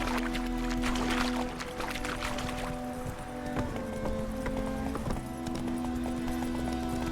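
Horse hooves clip-clop in The Witcher 3, a steady rhythmic trot under game music with sustained tonal layers, fairly loud and continuous.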